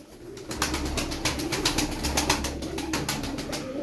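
Pigeons coo repeatedly in soft, throaty bursts, several birds close by, with fluttery rustling in the background.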